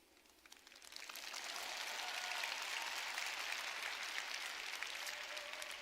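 Applause from a convention audience builds within the first two seconds and holds as a dense, steady wash of clapping, fairly distant and even, with no clear voices over it.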